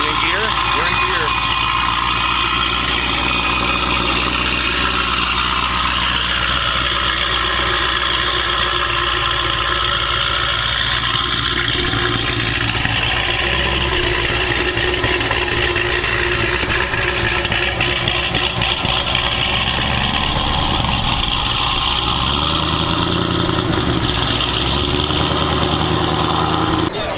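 A classic Holden car idling just after startup at an outdoor car cruise-in, a steady mid-pitched engine rumble running throughout, with people talking over it and occasional small changes in engine note.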